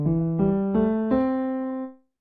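An intro riff played in the major pentatonic scale, four clean plucked notes stepping upward at an even pace, the last one left to ring out and fade.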